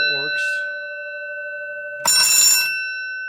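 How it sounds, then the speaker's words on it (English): An Otis elevator emergency alarm bell, freshly wired with contacts needing cleaning, gives a short loud electric ring with a sustained tone, heard close and indoors after a brief voice at the start. "And I've wired up the alarm bell."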